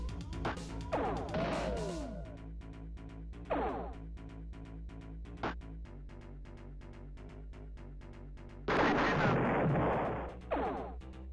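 Spaceship guns firing in the video game Ur-Quan Masters, a few scattered laser-like zaps and blasts over a steady electronic game soundtrack, with a louder burst of fire near the end.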